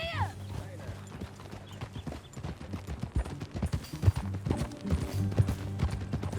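Horse hooves clip-clop at a steady, rhythmic trot in Red Dead Redemption 2, fairly close and moderately loud, with voices and other game sounds mixed in behind.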